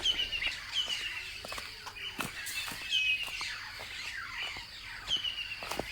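Birds calling around a sunrise campsite above a dry riverbed in Gonarezhou National Park, Zimbabwe: repeated sharp chirps and whistled notes, fairly close, overlapping in an irregular chorus with no talk.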